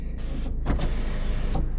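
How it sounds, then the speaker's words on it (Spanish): Steady low road rumble inside a moving car on the drive home, with a brief mechanical whir rising in the middle of the short stretch; no one talks. "Esto se hace una grabación de viva voz en el coche mientras conduzco camino a casa."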